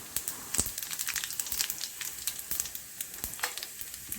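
Cumin seeds sizzle in hot oil for a puffed rice snack mix, a close, steady crackling fizz with dense popping spits throughout.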